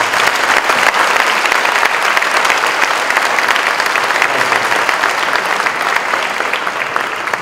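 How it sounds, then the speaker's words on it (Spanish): Strong, steady audience applause at a book presentation, a dense wash of many hands clapping close and loud, holding evenly throughout with no break. "Les pido un fuerte aplauso para Fernanda familiar."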